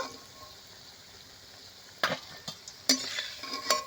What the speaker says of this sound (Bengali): সবগুলো একই রকমভাবে আমি ভেজে নিয়েছি এখন তুলে নেব